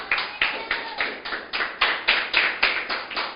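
A church congregation claps in a steady rhythm during a Spanish-language worship service, about ten sharp, even claps in just over three seconds, close and loud with no talking over them.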